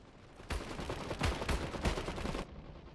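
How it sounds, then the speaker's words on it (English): A heavy machine gun team fires in the strategy game Iron Harvest, a two-second rattling burst of rapid, thudding shots at moderate distance, starting and stopping abruptly with no talk. "Heavy machine gun team ready for Stormtrooper combat."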